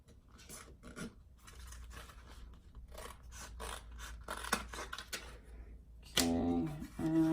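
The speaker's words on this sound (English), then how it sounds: "So I'm just going to clip off some of this excess here" Scissors snipping excess iron-on heat transfer vinyl for a canvas project: close, dry cutting and rasping strokes in irregular bursts, with a louder buzzy, tonal stretch near the end.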